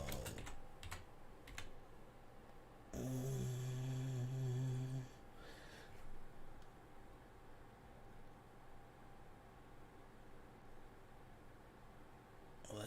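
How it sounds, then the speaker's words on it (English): One-handed typing on a computer keyboard, soft irregular key clicks running steadily at close range, interrupted briefly by a loud buzzing tone. "I'm typing with one hand"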